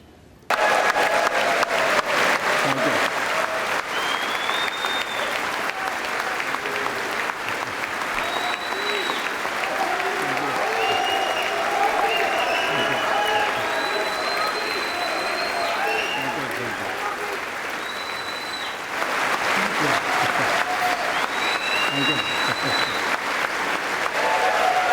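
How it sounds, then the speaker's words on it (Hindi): Sustained audience applause greets Prime Minister Narendra Modi during his address, a dense, steady roar of clapping from a large crowd that continues for the whole stretch with a brief dip before swelling again. "79 बार तालियां बजी हैं प्रधानमंत्री नरेंद्र मोदी जब अपना संबोधन दे रहे थे"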